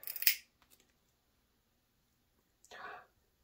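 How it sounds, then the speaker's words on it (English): Side cutters snipping the strength-member fibers of a fiber optic cable, two short crisp cuts up close with a quiet pause between them. "it will be much easier to cut with side cutters or with a knife"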